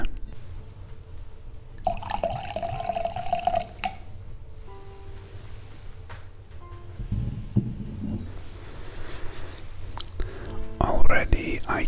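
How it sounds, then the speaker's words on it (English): Beaujolais Nouveau wine poured into a glass, a close gurgling trickle and drips in short bursts, with whispered talk and soft background music around it. "I have poured some wine here. I'm gonna put a bit more"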